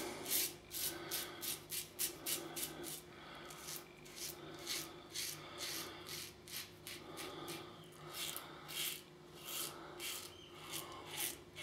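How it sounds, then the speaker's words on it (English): Close, quiet rasping strokes of a Pills safety razor shaving a face on a third pass with lather from Te Java soap, repeating in a steady rhythm of short scrapes with no talk. "let's go on with the shave, the third pass. With the Pills razor."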